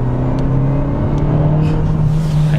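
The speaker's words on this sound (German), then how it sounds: "ich latsche mal Vollgas rein." A Dacia Duster with a 1.3-litre turbocharged four-cylinder engine held at full throttle gives a steady, loud, droning roar with a strong constant low hum throughout, heard close up and alone.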